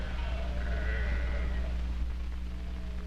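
Sheep bleat nearby over a steady low rumble, one drawn-out bleat standing out among fainter flock sounds.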